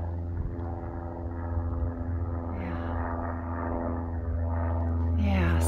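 A propeller airplane passes overhead above a rocky hiking trail, giving a steady, fairly loud low drone with a rich hum that holds evenly and swells slightly toward the end.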